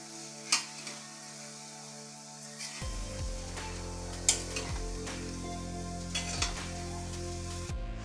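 Elephant yam flower stir-fry is stirred with salt in a pan: quiet scraping and clinks over a soft, steady sizzle that starts a few seconds in.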